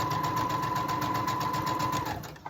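A sewing machine lock-stitches across the seams of a quilt row, a fast steady close whir with a sharp mechanical pulse that slows and stops near the end.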